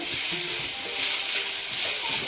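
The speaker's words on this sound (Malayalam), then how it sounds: "നന്നായിട്ട് ഇളക്കി കൊടുക്കണം." Capsicum thoran with dry coconut sizzles and frys steadily in a pan while being stirred, a continuous close hiss with soft scraping throughout.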